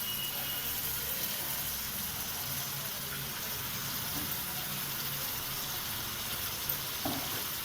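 Washed goat head meat goes into a pan with turmeric and fries, giving a steady soft sizzle and crackle that stays fairly quiet throughout, with a faint clink near the end.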